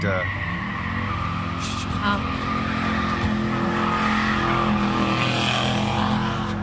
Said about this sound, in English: The car then accelerates, making a loud noise, scaring the news reporter